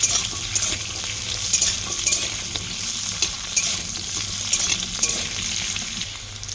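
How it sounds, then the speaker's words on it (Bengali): Potatoes sizzling steadily in hot oil in a pan for a Bengali katla fish curry, with occasional scrapes and stirring clinks of a utensil, close and continuous with no talking. "তার জন্য আলুটা আমি ভাজা ভাজা করি"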